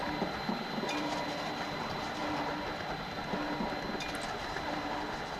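A backyard model garden railroad train runs along its track outdoors with a steady rolling rumble and faint rhythmic clicks, moderately close, with no talking.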